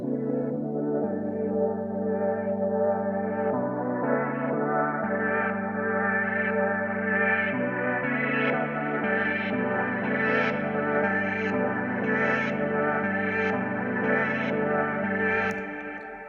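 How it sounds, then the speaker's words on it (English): An electronic music build-up with a low-pass filter slowly opening, starting muffled and dark and growing brighter and more intense across the whole stretch, with steady sustained chords and rising upper energy, no talking. "it absolutely got less muffled and more intense"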